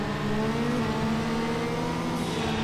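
A car engine revs hard at a race launch in Need for Speed: Underground, a loud sustained engine tone with rising pitch throughout, no voices.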